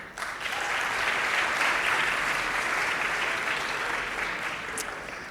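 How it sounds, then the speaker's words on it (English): An audience at a venture lab demo day applauds the FinTech Accelerator startups, a dense, sustained burst of clapping from a sizable crowd that rises quickly, holds steady and tapers off slightly at the end. "please give a big round of applause to our FinTech Accelerator."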